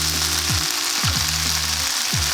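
Mushrooms drop into a hot frying pan of softened peppers for vegan firecracker rice, sending up a loud, continuous sizzle with a few low thuds and scrapes as they are stirred.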